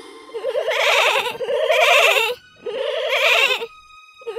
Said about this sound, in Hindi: जब वो घर में आए तो उन्होंने बकरी के बच्चों की आवाज सुनी।